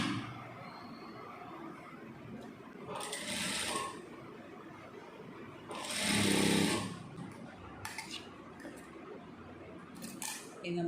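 Sewing machine stitching cloth in a tailoring lesson, a couple of short mechanical bursts of stitching with quieter clicks and handling noise between, close, with a voice talking at times.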